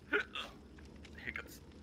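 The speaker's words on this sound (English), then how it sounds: "Hiccups." A few short, sharp hiccups burst out with gaps between them, close and fairly loud against a quiet background.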